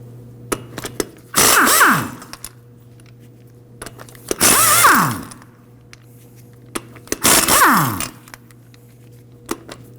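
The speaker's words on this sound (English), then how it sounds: "We can go ahead and remove the lug nuts with a 19mm." Lug nuts coming off the front wheel of a 1993-2001 Subaru Impreza with a 19mm socket on a power impact tool, three loud bursts of whirring about two seconds apart, separated by metallic clicks and handling noise, no talking.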